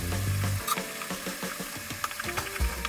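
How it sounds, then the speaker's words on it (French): Onions frying in a pan, a steady close sizzle with occasional stirring scrapes and light clicks. "Pendant que les oignons continuent de cuire"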